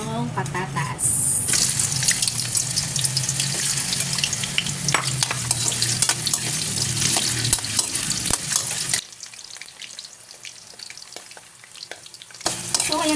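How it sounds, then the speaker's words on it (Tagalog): Sliced potatoes frying in hot oil in a pan, a loud, steady, crackling sizzle with bursts of popping that stops abruptly near the end, leaving a quieter gap before the noise returns. "pipirtuhin ko muna yung patatas"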